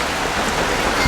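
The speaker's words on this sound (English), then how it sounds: "Oh man, it's raining really bad." Heavy rain pours outdoors in a dense, steady hiss that fills the whole moment, loud and close, with a faint low thump near the end and no voices.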